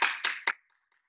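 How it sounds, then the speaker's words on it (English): Three sharp, close hand claps from a martial arts class at home ring out in quick succession, the last one shortest, followed by silence. "Extra, give one applause, guys."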